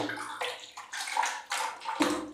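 Water splashes and pours in several bursts into a fish tank being cleaned, close by, with gurgling and sloshing between them.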